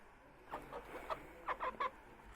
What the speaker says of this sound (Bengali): পাগল হয়ে যেতেছে মুরগি খাবার লেগে।